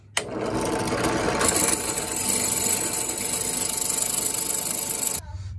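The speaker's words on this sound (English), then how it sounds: "I got the pilot hole drilled successfully" A power drill runs steadily for about five seconds as the bit cleans out a pilot hole, its continuous whirring, grinding tone holding loud and close before cutting off abruptly.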